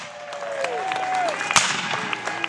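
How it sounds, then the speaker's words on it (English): Spectators at a Civil War reenactment cheer and clap for the Yankees, a scattered crowd of applause and whoops with a sharp shout partway through, while a voice carries over the noise. "Give a cheer for the Yankees if you like them"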